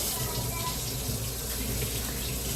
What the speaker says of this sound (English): So I'm gonna pour in this,